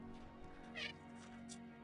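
A pet cat gives a short, faint meow or two in a quiet room, over a low steady hum, with no talking.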